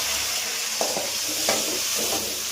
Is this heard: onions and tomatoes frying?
yes